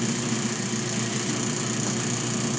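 A motorized sharpening wheel spins while honing a carving knife, producing a steady, continuous machine hum with a constant high whine on top, even in level throughout and close by, with no voices.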